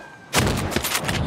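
Gunfire in the tactical shooter Ghost Recon Breakpoint: a sudden loud burst of rapid shots erupts after a quiet moment and keeps rattling as a close fusillade.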